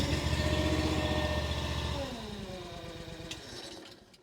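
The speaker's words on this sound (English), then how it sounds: "This guy comes with our nice Honda engine. I'll just give you a little listen to this." A small Honda engine idles with a low, smooth chugging rumble, then settles and winds down toward the end; close and fairly quiet.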